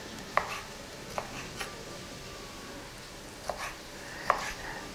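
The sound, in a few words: knife chopping food into thin julienne cuts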